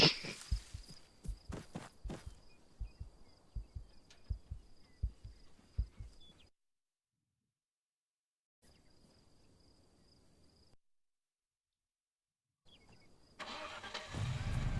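Truck engines in the military video game ArmA rumble with rhythmic clicking pulses, then cut out into silence twice before a rougher engine noise returns at the end, with no voices.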